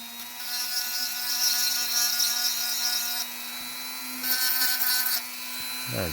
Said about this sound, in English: I'm gonna have to sand that backside